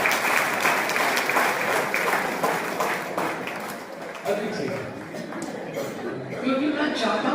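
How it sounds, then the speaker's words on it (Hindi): An audience at a family-themed talk evening claps together, a dense sustained patter of applause filling the room, with some chuckling and murmured voices mixed in. "अब दोनों मिलकर ताली बजाएंगे"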